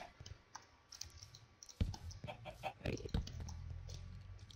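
A chicken in the Minecraft video game clucks in a few short bursts, with soft clicking and game noises around it and no talking.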